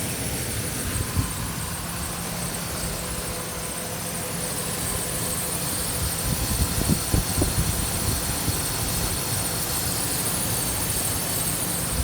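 A 2008 Ford Ranger with a 3.0 liter V6 idles steadily, a smooth even hum with a faint high whine on top, no talking, holding constant for twelve seconds with a few light clicks in the middle.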